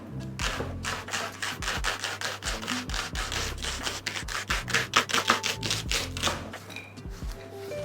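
A knife slices a leek on a cutting board in a fast, even run of crisp chopping strokes, close and continuous.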